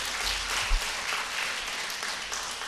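A church congregation applauds together in a sustained, even wash of clapping that fills the room for the whole stretch, steady and fairly loud with no talk over it.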